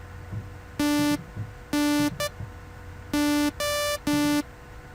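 An electro bass patch from the Massive synth plays buzzy, harmonic-rich notes in short rhythmic bursts and sustained stabs, with a low hum underneath the pattern.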